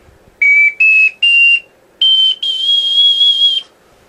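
Ocarina playing a series of piercing high notes very loudly: three short separated tones, a pause, then two longer sustained ones rising slightly in pitch, close and alone.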